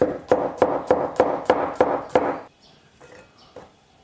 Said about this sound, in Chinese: 现在来切上一点姜葱蒜